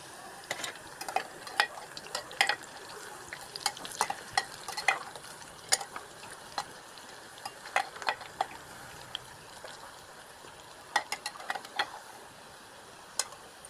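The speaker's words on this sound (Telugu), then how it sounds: "ఇలానే ఈ పిండి అంతా చిన్న పకోడీలా వేసుకుందాం." Small spoonfuls of pakoda batter frying in hot oil give a soft, bubbling sizzle, broken by sharp, irregular clinks of a spoon against the pan.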